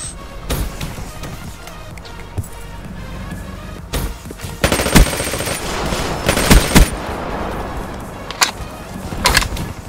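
A PPSh submachine gun rattles off rapid bursts in Black Ops 3, loud sharp volleys clustering in the middle of the stretch amid scattered single shots and game noise.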